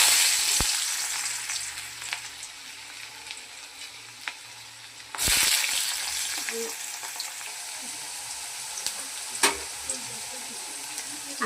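Chopped potatoes fry in hot oil with black cumin seeds in a wok, a steady close sizzle with occasional clinks and stirring scrapes, and a louder burst of spitting partway through.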